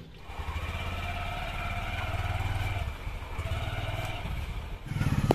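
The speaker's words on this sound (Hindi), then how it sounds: "मामू का बाइक से ही जाएंगे।" Motorcycle engine running while riding, a close steady buzzing drone that dips briefly then revs back up with clattering at the end.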